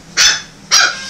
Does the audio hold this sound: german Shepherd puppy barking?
yes